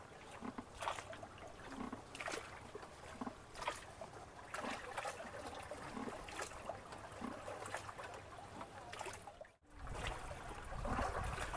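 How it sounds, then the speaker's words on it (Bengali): Rhythmic splashes of oars or paddles slapping water from a hand-rowed boat, repeating every second or so against a steady low hum. "এই হাতে টানা যে নৌকার যে একটা ছলাৎ ছলাৎ আওয়াজ"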